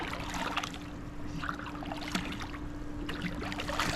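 Water runs and splashes steadily beside a green swimming pool, a continuous washing rush with a low hum beneath it and no talk.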